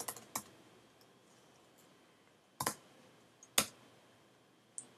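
A handful of sparse, crisp keystroke clicks on a computer keyboard, spaced irregularly with quiet pauses between them, close and fairly soft in a still room.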